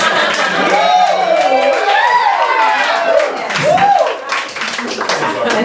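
Audience at a comedy show applauding and cheering, with a performer's voice talking loudly over the crowd throughout.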